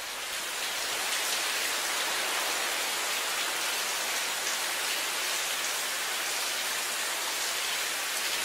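Rain falling on a car park surface, a steady, dense broadband hiss that holds at an even, fairly loud level throughout with no breaks and no voices.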